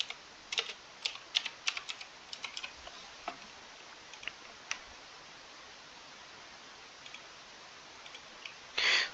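A computer keyboard is typed on in short, quiet bursts of crisp clicks, pausing between words, with a louder cluster of keystrokes at the end.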